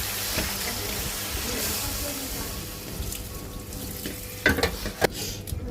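Flat beans, papaya and potato stir-frying in hot oil, a continuous close sizzle with scraping stirs and a few sharp clatters of the spatula near the end.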